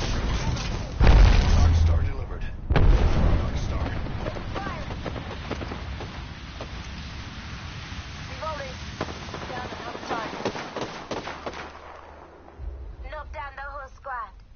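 A frag grenade blast in the video game Apex Legends: a heavy boom near the start and a second deep thud soon after. Gunfire and a player's voice continue underneath.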